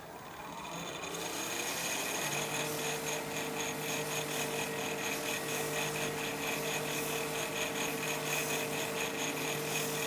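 A turned wooden whiskey tumbler is buffed on the lathe, giving a steady whirring, rubbing drone that holds evenly for several seconds with no speech.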